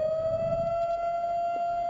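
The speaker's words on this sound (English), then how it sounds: "A siren signals a call to prayer on Shabbos" A long, steady siren signaling the Shabbos call to prayer in an Orthodox Jewish community wails at a sustained pitch, loud and unbroken, with faint low background noise beneath it.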